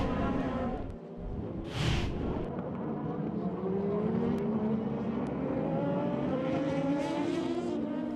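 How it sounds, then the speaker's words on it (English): A Toyota hybrid and an Audi endurance prototype race past in a WEC race, their engines roaring loudly with rising and falling pitch as they close in and sweep by, and a crowd-like rumble sits underneath. "the Toyota passes the Audi under the hybrid power"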